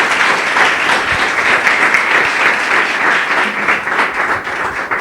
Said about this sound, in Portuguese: Louve ao Senhor com suas palmas